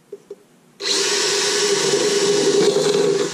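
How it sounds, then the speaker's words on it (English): After two light taps, a power drill whirs into a soup can being made into a stove, a loud, steady, high-pitched whine that runs without pause. "Drill, please."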